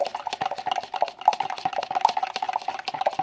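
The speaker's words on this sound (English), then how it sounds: "stir it well" A spoon scrapes rapidly through thickening tangzhong flour paste in a pot, producing a close, busy run of short wet stirring strokes in a quick, uneven rhythm.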